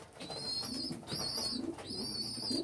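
White pigeons coo softly in three repeated, rolling calls, close by against a faint background hum.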